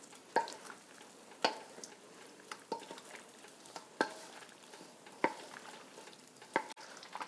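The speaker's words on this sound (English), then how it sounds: "And then give this a good mix." Cheese tortellini pasta salad is tossed in a bowl, giving faint, soft wet stirring with a series of light utensil clicks spaced about a second apart.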